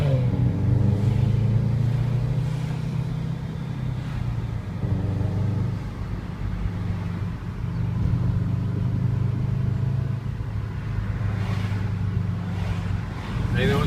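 A Subaru car's engine rumbles and revs in a steady low drone with wind and road noise, heard from inside the car, with rises and dips in pitch as it accelerates and a voice talking now and then.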